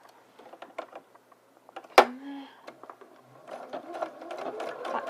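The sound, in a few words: sewing machine stitching dress lining armhole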